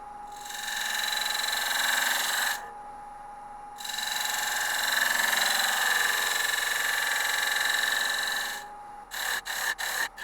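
A wood lathe cuts the top off a wooden goblet, the tool giving a loud sustained whine and rasp in two long passes, then a few short scraping bursts at the end.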